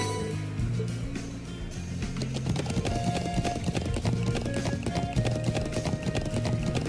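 Horse hooves clip-clop steadily in Trails of Cold Steel, a brisk, continuous trot under a soft musical backdrop, with no talk.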